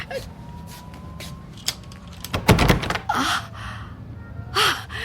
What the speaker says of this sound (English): Chain is on. And the door is locked.